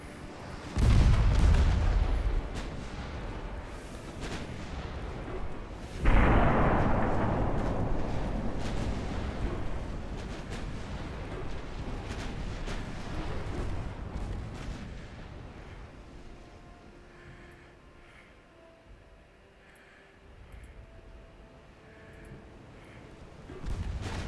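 Warship secondary guns firing in Ultimate Admiral Dreadnoughts, two heavy booming salvos with long rolling decays, then a quieter stretch of distant rumbling shots and a final boom building at the end.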